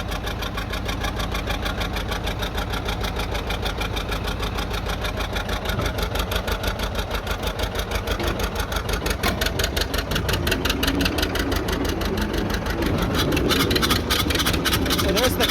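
The engine of a John Deere 830 Industrial tractor cranks and runs with a steady rapid low chugging that grows slightly louder toward the end, close by, under a voice.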